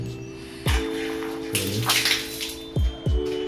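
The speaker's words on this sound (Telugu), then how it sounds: "ఈ ట్యాప్స్లో అయితే మనకు హాట్ వాటర్ అనేది వస్తుంది" Hot water runs steadily from a tap into a basin, interrupted by a few dull thuds, close by.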